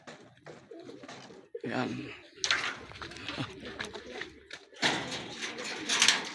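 Racing pigeons coo close by at a derby race loft, soft repeated murmuring calls mixed with wing and cage noise while someone talks over them.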